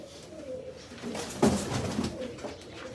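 Pigeons kept as flying birds coo in low, rolling calls, with one fuller burst in the middle standing out over soft background noise.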